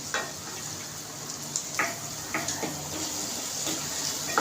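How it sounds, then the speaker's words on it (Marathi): Potatoes for aloo palak sauté in a pan on medium heat with a continuous close sizzle, broken by several light scraping stirs and soft clicks of a spatula against the pan. "तर बटाटा चांगला याच्यामध्ये परतून थोडं शिजवून घ्यायचं आहे"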